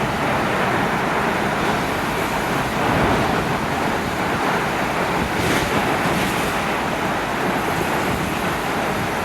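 A London bus drives through a long tunnel, giving a loud, constant broadband roar of engine and road noise reverberating off the walls, with faint brief whooshes of passing traffic and no talking.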